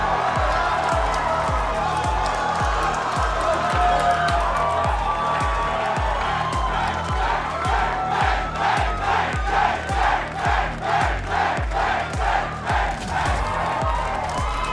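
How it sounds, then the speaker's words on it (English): A packed esports arena crowd roars and cheers after 100 Thieves win a Valorant VCT Americas match, a loud, continuous wall of voices that builds into rhythmic chanting and clapping. "Cheers of adulation from the crowd."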